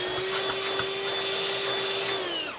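Dyson V10 cordless stick vacuum running at close range during a suction test, a loud steady high-pitched motor whine with airy rush that holds for over two seconds before the motor starts winding down at the end.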